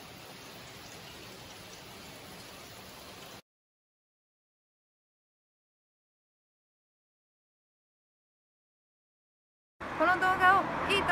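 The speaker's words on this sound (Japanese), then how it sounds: "まあ、ほぼ止むこともなく、まあ、一瞬止んだんですけど、まあ、こんな状態ですね。" Steady rain falls on the Oki Islands in Shimane, a dense, even hiss for a few seconds, then a long silence before a voice starts talking.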